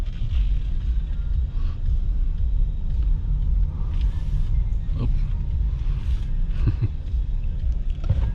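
Interior of a 2020 Ford Edge ST SUV with the 2.7L twin-turbo engine while driving, a steady low engine and road rumble with faint tire and wind hiss underneath, constant and close.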